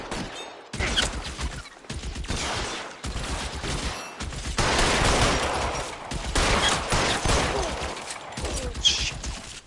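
Gunfire in a shootout in the video game L.A. Noire, with repeated bursts of loud rapid shots broken by short pauses and sustained volleys toward the end.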